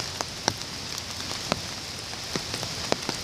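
Rain falling on a garden, a soft steady patter with scattered louder drops striking nearby surfaces at irregular intervals, no voices.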